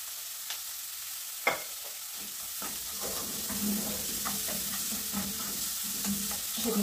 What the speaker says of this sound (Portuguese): já dei uma fritada boa aqui no pimentão, na cebola e no alho